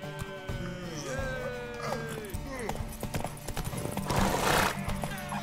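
In the video game The Witcher 3: Wild Hunt, hooves clip-clop over ground as a horse whinnies with a rising, wavering cry, while voices talk and music plays underneath.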